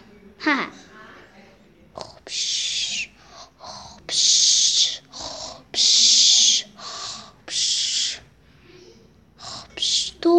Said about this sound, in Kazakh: Мынау кім қорылдай беретін?